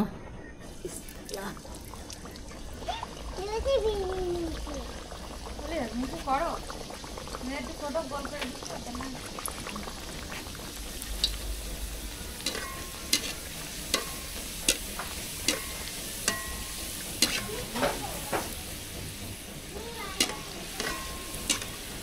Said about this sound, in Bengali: তেল গরম হয়ে গেছে, এখন লুচি ভেজে নেব।